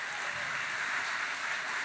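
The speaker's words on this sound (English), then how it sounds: "a round of applause." Faint, steady audience applause at a village State of the Village address honoring the police department, a soft continuous patter of many hands with no talk.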